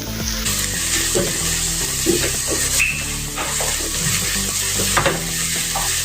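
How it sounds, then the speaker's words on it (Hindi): Finely chopped onion and two green chilies fry in a pan, a steady close sizzle with a few soft stirring scrapes and clicks throughout, no voices. "नरम होने तक इसको पकाएंगे प्याज और हरी मिर्च को"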